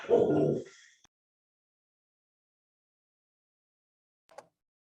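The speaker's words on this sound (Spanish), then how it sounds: "perdón mis perros" Pet dogs in a home, heard during a talk: a loud, short bark burst at the start, then near silence and a single faint yip a few seconds later.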